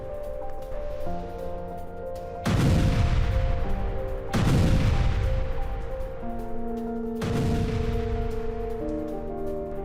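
Russian artillery fires on Lyman in Ukraine: three heavy, booming blasts, each followed by a long rumbling decay, over a steady background tone with no talking.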